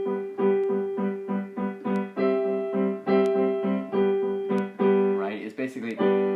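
Piano playing a chord progression over a sustained pedal bass note with a second-inversion six-four chord in the middle, a series of clear, evenly spaced struck chords ringing alone, growing denser and busier near the end.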